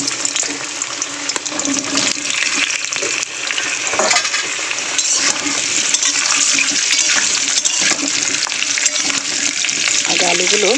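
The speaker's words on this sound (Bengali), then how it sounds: "আলুগুলো আগে তেলে ভালো করে লাল লাল করে ভেজে নিই" Large potato pieces fry in hot oil in a kadai, giving a loud, steady, close sizzle with occasional stirring scrapes and no talking over it.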